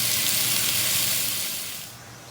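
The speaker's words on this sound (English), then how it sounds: "We're going to saute those until they're a golden brown." Zucchini and squash sauteing in olive oil give a loud, dense, steady sizzle that eases slightly toward the end, close up with no voices.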